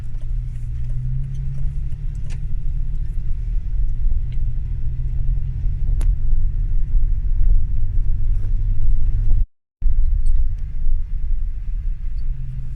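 Steady low engine rumble of a car on the move in Namibia, continuous and close, with a brief dropout near the end.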